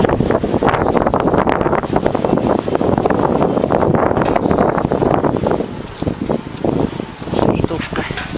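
Strong gusting wind sweeps through a vegetable garden, blowing leaves about, with loud continuous roaring and buffeting close to the microphone that eases slightly for a moment before surging again.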